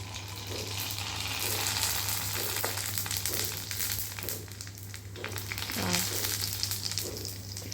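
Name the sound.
frying panipuri (fuchka) in hot oil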